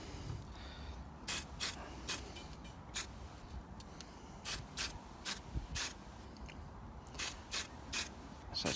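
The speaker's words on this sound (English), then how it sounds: "screw these back on" Screws being driven back into a Jakks Pacific C-3PO figure, a series of short sharp ratcheting clicks in irregular bursts, close and fairly loud over a quiet background.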